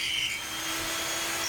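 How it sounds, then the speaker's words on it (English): An electric drill bores a hole through the 5mm-thick steel blade of a knife forged from a farrier's rasp, giving a steady, loud, continuous whine with no pauses. "now I've just got to put a slightly bigger drill in and join them up"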